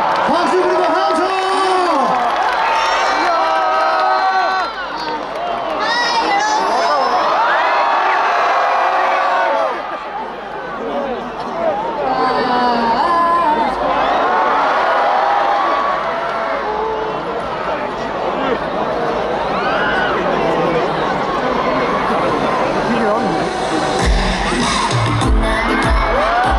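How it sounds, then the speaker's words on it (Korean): Concert crowd at a university show, loud sustained cheering, shouting and clapping from a big audience, with high children's-sounding screams, continuous for the full length with a brief dip midway. "박수 그리고 함성."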